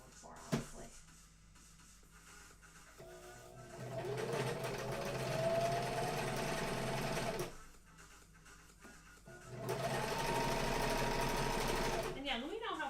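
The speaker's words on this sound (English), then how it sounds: "let me know how sound is with this sewing machine" A sewing machine runs in two long bursts of steady mechanical whirring and rattling, separated by quiet pauses, with brief speech around them.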